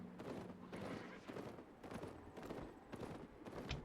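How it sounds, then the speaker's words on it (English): Horse hooves in the online game Albion Online, a steady rhythmic clip-clop of several footfalls, faint and somewhat distant throughout. "I heard a horse."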